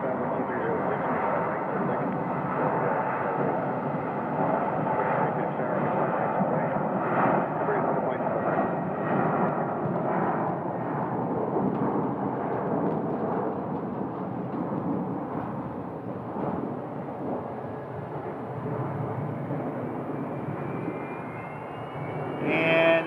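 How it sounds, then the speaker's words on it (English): A KC-135 tanker jet of the Arizona Air National Guard refueling wing passes at Phoenix Sky Harbor Airport, a loud, steady broadband engine roar that holds for over twenty seconds before swelling at the end, with a voice talking over it. "There goes the KC-135, call sign Copper 8, the Arizona Air National Guard refueling wing that we have here."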